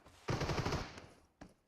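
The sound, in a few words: gunfire from P90s and shotguns in the video game PUBG Mobile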